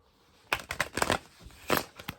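A deck of playing cards being shuffled for a magic trick, several close, quiet riffling bursts and light flutters in quick succession.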